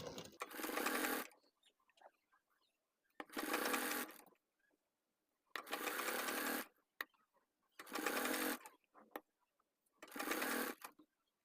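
Five evenly spaced bursts of a sewing machine, each lasting about a second, stitch piping onto a fabric circle handbag, with near silence between the runs.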